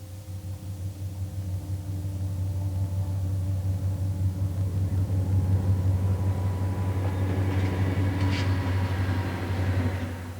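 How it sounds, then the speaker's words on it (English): A train of auto rack cars loaded with new automobiles rumbles past steadily, a low droning roll with a faint squeal, swelling slightly and holding for about ten seconds. "this train is hauling new automobiles inside these protective cars called auto racks"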